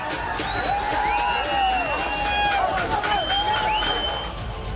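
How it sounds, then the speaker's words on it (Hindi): A loud, dense crowd of protesters at Kyrgyzstan's parliament, with shouting voices rising and falling together and continuous roaring babble close by. "केक की संसद पर भीड़ का दावा, पुलिस पर भीड़ की पत्थरबाजी"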